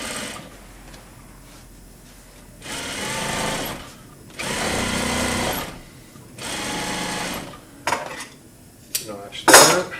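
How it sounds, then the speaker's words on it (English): Sewing machine stitching a chair cushion for an Arts & Crafts chair, in three loud bursts of fast whirring stitches separated by pauses, with sharp clicks and clatter near the end as the needle is planted and the fabric turned. "Plant the needle, continue stitching."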